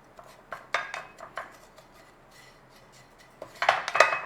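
Dry desiccated coconut being toasted in a pan: scattered light scraping and clinking strokes of a utensil against the pan, irregular and fairly close, with a busier flurry near the end.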